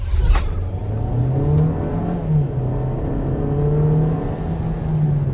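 A VW Taos with a 1.5-liter four-cylinder turbo engine accelerates, its steady engine drone rising and holding in pitch over several seconds, heard from nearby with no talking.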